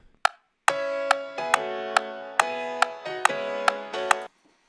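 Piano playing the intro of the worship song Yeshua, a short phrase of bright, evenly spaced notes over held lower chords, clear and close, then stopping, with no talking.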